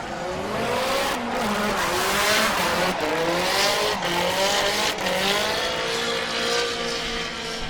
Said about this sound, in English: something was definitely dragging under a car there when it went by. That sounded like his exhaust system